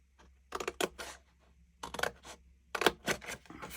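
Scissors cut through cardstock in close, crisp snips, arriving in three short bursts of quick cuts with quiet pauses between.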